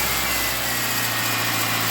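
A Subaru Forester engine running steadily just after starting, a loud, continuous low rumble that holds even for about two seconds with no voices.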